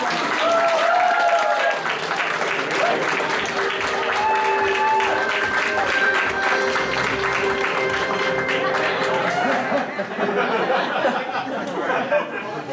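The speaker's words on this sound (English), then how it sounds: "Let's give a round of applause though, guys." Loud audience applause at a convention game show, with steady clapping throughout, mixed with crowd chatter and a bit of laughter.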